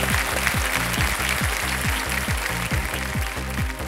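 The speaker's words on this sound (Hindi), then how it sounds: "और ताली बज गई है पहले से ही" Studio audience on the Kaun Banega Crorepati quiz show claps steadily and loudly for about four seconds, over a pulsing, rhythmic musical beat underneath.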